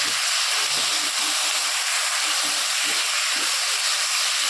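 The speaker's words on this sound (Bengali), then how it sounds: "দিয়ে দিয়েছি নুনটা আর হলুদা নুন দিয়ে এবার ভালো করে একটু কষিয়ে নেব" Elephant apple pieces sautéing in a pan with salt and turmeric give off a continuous, even hiss of frying that holds steady at close range from start to finish.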